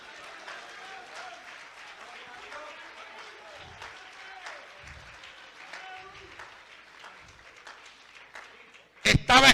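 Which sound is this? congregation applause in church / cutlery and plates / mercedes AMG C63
congregation applause in church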